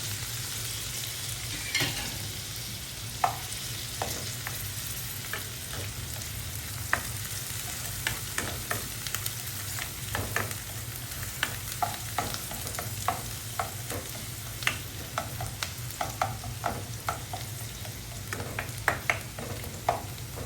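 Garlic frying in oil in a pan with onion, a continuous sizzle broken by scattered clicks and scrapes from stirring throughout, steady and close, with no voices.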